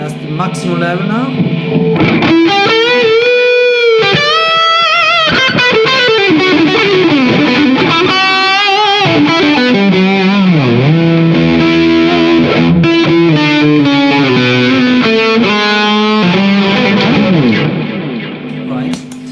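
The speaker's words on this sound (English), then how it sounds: "So in this case we have a very aggressive distortion" A Ratin Blue Angel distortion pedal at maximum level gives a very aggressive distorted electric guitar tone, loud continuous riffs and sliding bends that thin out near the end.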